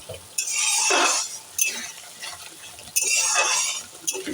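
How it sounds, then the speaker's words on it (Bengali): Masala for a spicy Bengali fish curry is stirred and sautéed in oil in a pan, giving a few long, close scraping and sizzling strokes with brief pauses between them. "যতক্ষণ না তেল ছেড়ে আসছে ততক্ষণ একটু ভালো করে কষিয়ে নেব"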